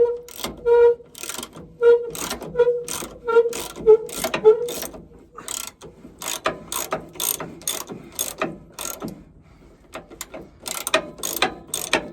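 Ratcheting clicks of a spanner tightening a trailing arm bush bolt on a Land Rover Defender, a steady run of sharp metallic clicks in quick bursts, close and clear with no talking.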